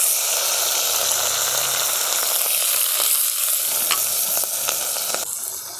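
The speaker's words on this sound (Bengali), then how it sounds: "কড়াতে দিয়ে দিচ্ছি চিংড়ি মাছ।" Prawns sizzle and spit loudly in hot mustard oil in a wok, a steady broad frying hiss with scattered crackles that carries on without a break for the whole stretch, with no talking.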